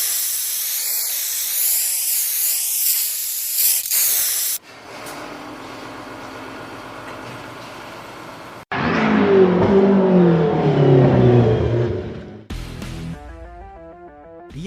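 Steady high hissing from a racing car's turbo in an animated racing cartoon, followed by abrupt cuts to engine revving, rising and falling whines and a loud surging roar.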